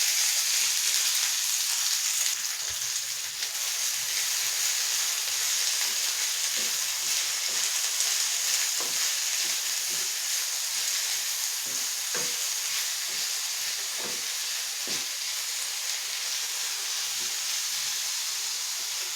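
Radish leaves fry in hot oil in a pan, giving a steady, bright sizzle and hiss that runs throughout, with occasional soft clicks of a utensil.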